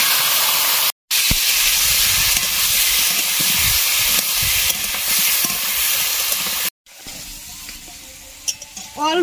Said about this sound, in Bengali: তেল গরম হয়ে গেছে, মাছের মাথাটা এবার ভেজে নিব।